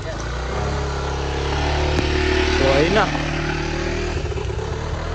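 A motorcycle engine revs and rises in pitch in a parking area, with one pass swelling to a peak near the middle under steady talk in Filipino.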